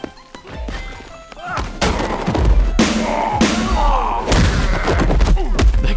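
Blunt hits with a shotgun used as a club in Paint The Town Red, a series of loud close thumps and crashing smacks in quick succession over a busy game background.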